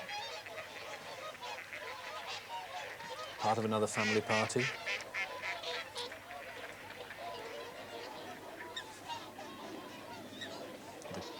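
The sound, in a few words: migrating birds from Iceland calling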